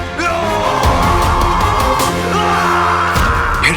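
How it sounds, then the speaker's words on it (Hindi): Loud, overlapping screams and yells from several people in a dramatic action film scene, dense and sustained with bangs and a booming low rumble beneath. "ये चीखें सुनाई दे रही हैं।"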